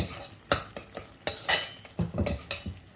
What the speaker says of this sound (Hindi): इसी तरह से हमें घुमा घुमा कर इसको लाल होने तक अच्छे से भूनना है